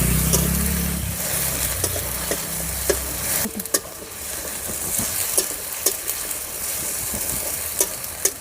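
Ground spice paste frying in oil tempered with black cumin for a traditional Bengali tel potol dish, a steady close sizzle after a low rumbling start, broken by sharp scrapes and clicks of stirring.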